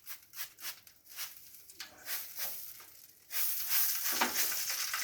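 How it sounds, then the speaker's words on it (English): Pork spare ribs on a Masterbuilt gravity grill hiss and sizzle after a spritz of apple cider vinegar, a fizzing crackle in soft pulses that swells into a louder, steady sizzle near the end. "Ooh, nice the sizzle as it hits the pan"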